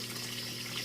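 A pump moving water from a tilapia pond into a settling tank, giving a brief steady wash of flowing, trickling water with a constant low hum beneath it.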